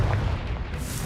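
Confringo spell explosion in the video game Hogwarts Legacy: a short, dense, rumbling blast that fills the whole moment, loud and close, with no talking.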